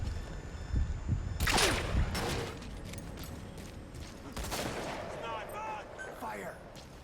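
Gunfire in a video game crackles in a few broad bursts of shots near 1.5 and 4.5 seconds, loud and close, over a rumbling game backdrop with chirpy electronic effects near the end.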